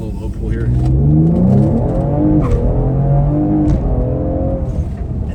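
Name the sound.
Ford Explorer ST engine during low pull acceleration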